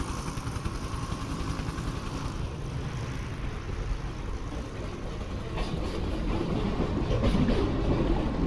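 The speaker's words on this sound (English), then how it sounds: "this train station environment containing 195 sources" Busy train station ambience with a steady rumble of trains and engines, a dense wash of about 195 sound sources that swells slightly toward the end.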